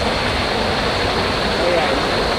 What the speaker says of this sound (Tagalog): nandito yung pinaka waterfalls